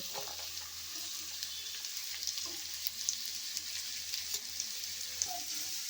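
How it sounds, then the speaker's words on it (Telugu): Chopped onions and carrot pieces fry together in a pan for a carrot stir-fry, giving a steady close bubbling sizzle with small crackles and no voices. "ఈవెన్గా రెండు కలిసి వేగుతాయి"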